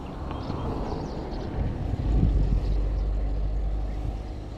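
Low rumbling traffic rolling past nearby, a heavy vehicle swelling louder in the middle then easing off, with a constant deep drone underneath.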